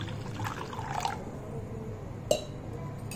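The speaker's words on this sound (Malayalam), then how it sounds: "ഇനി ഇതിലേക്കും വെള്ളം ഒഴിച്ചു" Water poured while preparing a sweetened drink, a soft continuous trickle with a few drips and a sharp clink near the end, low and close.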